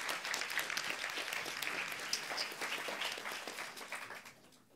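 Audience applause for a contestant at a young clinicians' competition during a psychiatry congress, a steady wash of many hands clapping that fades out toward the end.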